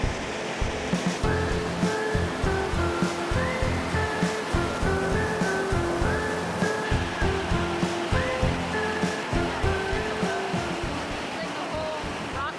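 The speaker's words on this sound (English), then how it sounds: "On an average day, over 288 million gallons of water come through that spring and down the river." A massive spring pouring huge volumes of water into a river makes a steady, loud, continuous rushing roar close by, with no break across the stretch and a faint pulsing texture within the flow.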